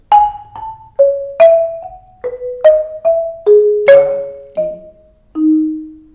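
Mallet percussion instrument playing a slurred audition etude passage slowly, about a dozen clear struck notes in pairs, each ringing briefly before the next, ending on a longer sustained low tone, close and alone.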